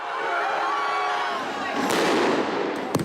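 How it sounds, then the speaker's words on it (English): Sharp bangs burst out over a crowd's noisy hubbub, a loud broadband blast near the middle followed by a couple of quick cracks at the end. "More explosions overhead."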